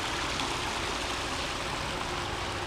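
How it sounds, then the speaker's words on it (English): Water pours continuously down a garden waterfall feature, a steady broadband rush with no breaks, moderately close and alone. "And then here's the cool waterfall feature."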